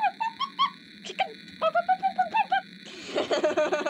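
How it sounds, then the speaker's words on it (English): A chicken in the horror video game Popgoes gives a rapid series of short, honking, squawk-like clucks, pausing briefly before another run and ending in a denser, noisier burst. "Is that a chicken?"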